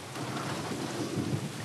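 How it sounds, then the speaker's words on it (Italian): Steady rain pours during an Arizona rainy-season storm, with a low, continuous rumble of thunder rolling beneath it, loud and unbroken throughout. "in cui piove in Arizona"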